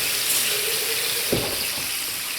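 Water poured from a jar into a pan of browned meatballs and ragu sauce on a stovetop, a steady splashing pour with a brief sharper splash partway through, close and continuous, no talk.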